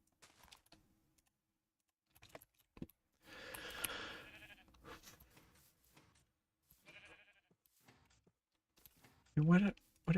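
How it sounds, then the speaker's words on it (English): A mountain goat bleats in Minecraft with the GTNH modpack, a short nasal bleat near the end amid sparse keyboard typing, with quiet voice sounds in between. "What is it with mountain goats?"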